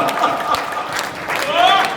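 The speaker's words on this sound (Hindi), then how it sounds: "अब बाबूजी के लिए तालियां उठा देना" An audience at a Holi poetry gathering claps in a steady, moderately loud patter of scattered hands, running under and alongside a voice and fading slightly mid-clip before swelling again.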